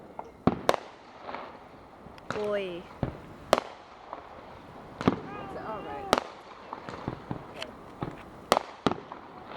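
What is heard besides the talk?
fireworks shooting into the air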